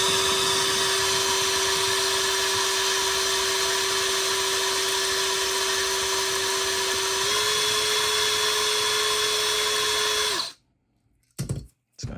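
A small drill bit boring into a diecast toy car makes a loud, continuous high-pitched whine for about ten seconds, shifting slightly in pitch partway through, then stops, leaving a few short knocks.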